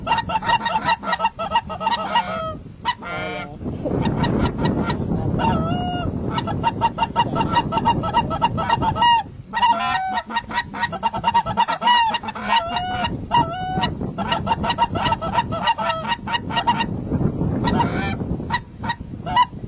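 A big flock of geese honks loudly and continuously close by during a bird hunt, many overlapping calls rising and falling in dense, clamorous waves.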